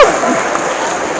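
Audience applause at a university student debut show, a dense steady wash of clapping from a crowd filling the brief moment at even loudness.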